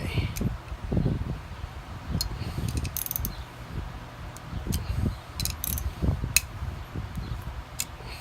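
A Lakewood S-223 No Rock fan's rotor assembly is tightened, with light ratcheting clicks and metallic ticks over a steady low rumble and muffled voice sounds close by.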